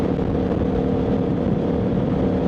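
A motorcycle engine drones steadily and loudly on a ride, a dense, constant roar with no pauses and no talking over it.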